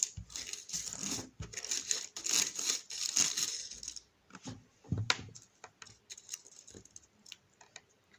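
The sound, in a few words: paper slips being mixed and crumpled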